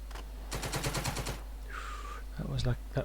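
Rapid burst of support-weapon gunfire in a tactical war game, a quick string of sharp shots followed by a steady synthetic tone and a few low rumbling hits.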